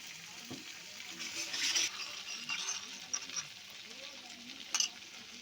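A paste of cashew, poppy seed and melon seed cooking with a little water for a vegetarian banana curry makes a soft, close sizzle with light stirring scrapes and a couple of small clinks.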